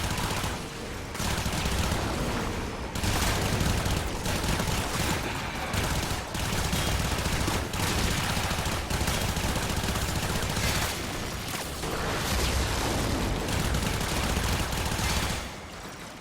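Sustained rapid gunfire from the video game Warframe, loud and nearly continuous bursts with short breaks, alone without talk.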